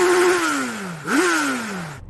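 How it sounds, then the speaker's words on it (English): A Suzuki Hayabusa's 1340 cc four-cylinder motorcycle engine revved sharply: a falling drone, a quick snap up in pitch, then a long sliding drop as it settles, loud and near. "Chris, make some noise with your bike and its 4 cylinders."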